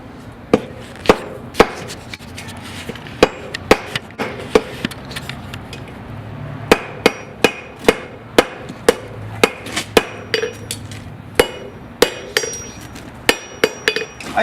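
Hammer blows on an anvil while forging tongs at a blacksmith's forge, sharp ringing strikes in irregular bursts with short pauses, close and loud, with no talking.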